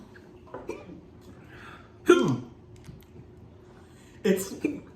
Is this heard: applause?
no